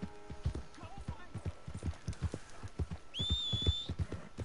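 A horse's hooves clip-clop steadily at a walking rhythm in the Red Dead Redemption 2 game, near and moderately loud, while a person talks over them and a high whistle-like tone briefly sounds.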